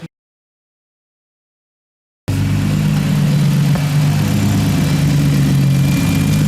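Engine of a turbocharged Nissan G35 car running steadily after a jump start in a garage, starting abruptly after silence and holding a loud, constant idle drone.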